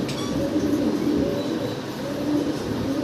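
Pigeons coo softly and continuously from a loft of paired birds, a low, steady murmuring that stays close and even, with no talk over it.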